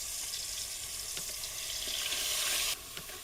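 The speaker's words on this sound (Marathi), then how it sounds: "आता आपल्याला जे वाटलेलं वाटण आहे ते टाकून द्यायचं आहे." Ground masala paste hits hot oil in a pan for a fish curry, giving a steady, fairly quiet broadband sizzle that holds evenly before easing slightly near the end, with no talking.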